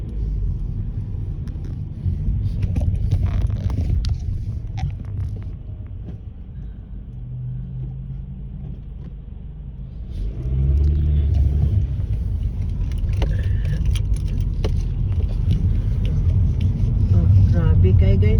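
Cars and buses drive along a thick-fogged winter road in hilly Australian country, a steady low engine rumble that swells louder near the end, with a voice talking over the traffic.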